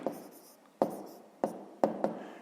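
Numbers handwritten for a fifth-grade maths exercise: pen strokes scratch across paper in four short bursts, each opening with a tap, close and clear with no talk.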